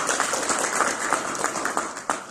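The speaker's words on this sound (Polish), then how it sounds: "Brawa, oczywiście." Applause from an audience at a lecture event, a dense patter of clapping that stays steady and fairly close throughout the short stretch, with no talking over it.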